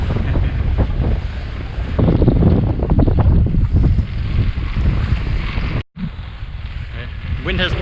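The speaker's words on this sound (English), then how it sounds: "Wind has become really strong now." Strong, steady 20-knot wind roars across the microphone aboard a sailboat heeling at speed under a reduced genoa, with wave and water rush beneath and a brief dropout near the end.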